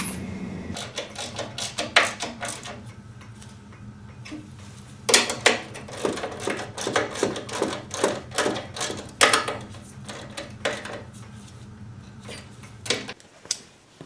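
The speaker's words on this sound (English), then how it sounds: "Just continue putting the bolts and nuts on." Metal bolts and nuts being fitted on a 1949-51 Ford Flathead engine: repeated sharp clinks, taps and rattles of hardware close by, in irregular bursts with quieter gaps and no talking.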